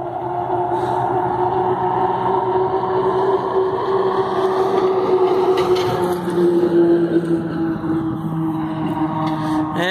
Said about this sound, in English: yep, here comes another truck right now.